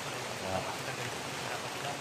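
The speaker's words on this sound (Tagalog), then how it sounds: "Medyo maulan ngayon." Steady rain falling outdoors, a soft, continuous hiss of drops on surfaces, faint and even throughout with no distinct pattering bursts.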